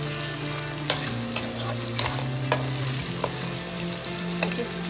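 Mutton pieces frying over low gas in a covered pan, making a steady close sizzle with periodic sharp clicks and scrapes of a spoon stirring, and no voices.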